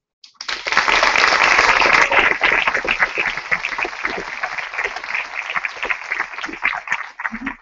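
Audience applause fills a graduation ceremony, starting abruptly as a dense, loud burst of many clapping hands, then thinning into a steady, slightly softer patter that carries on to the end with no talk over it.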